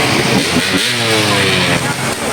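A motorcycle engine labors and revs loudly on a steep, rocky uphill trail, a strained, continuous drone close to the rider, with voices talking over it.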